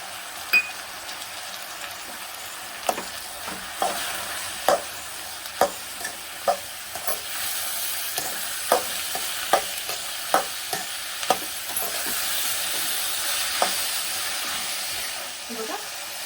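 Ingredients for tamarind rice sautéed together in a pan, with steady frying sizzle under repeated sharp scrapes and taps of a spatula stirring at an irregular pace, close and fairly loud throughout.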